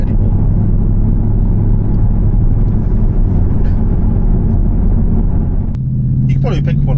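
A Jaguar XFR's 5-litre supercharged V8 rumbles deeply and steadily at idle up close while a person talks over it; a brief higher-pitched sound appears near the end.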